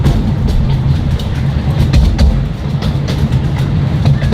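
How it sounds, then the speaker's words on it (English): A small zoo train ride pulls into its station, a steady low rumble of rolling wheels and rail noise continuing close by for several seconds without talk. "Always do love going on the train rides."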